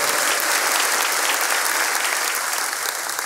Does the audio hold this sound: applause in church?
yes